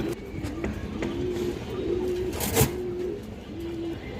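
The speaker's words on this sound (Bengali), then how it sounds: "খাকি মুসলমান মাদি কবুতর" A khaki female pigeon at a farm coos in low, repeated throaty calls that recur steadily, close by, over a steady background hum, with a brief louder knock in the middle.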